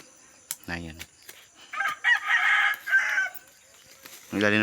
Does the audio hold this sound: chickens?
yes